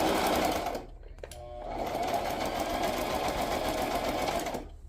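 A sewing machine stitches the base of a flip-flop on a decorative stitch setting. The close, steady mechanical whir stops briefly, then runs continuously again.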